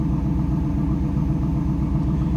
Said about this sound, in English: you can hear that MagnaFlow exhaust